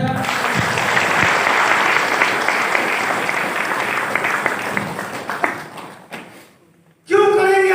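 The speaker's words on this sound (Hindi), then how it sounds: "एक बार ताली बजाओ" A seminar audience applauds loudly and steadily for several seconds, the clapping slowly fading to near silence before a voice comes back in over a microphone.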